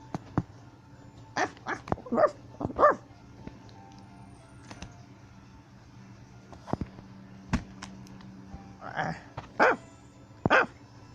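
Pomeranian and Spaniel dogs bark in scattered short bursts and yips, some close and sharp, with quiet gaps between and someone talking over them.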